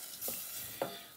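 Cream being stirred into a garlic and onion sauce in a pan on the stove, giving a faint, steady sizzle with two soft scraping strokes of the spoon, close and quiet with no talking.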